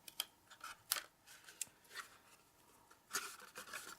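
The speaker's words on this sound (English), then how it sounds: "I'm just snipping off a corner." Scissors snip off the corner of a box in a series of quiet, close, crisp cuts, irregularly spaced with short pauses between them.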